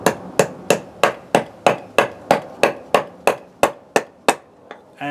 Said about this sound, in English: for this I'm going to use a mallet